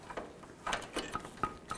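A ratchet wrench tightens a bolt on the timing cover of a 2000-2006 Chevy Tahoe, giving several sharp, close clicks that are spaced irregularly over a quiet shop background.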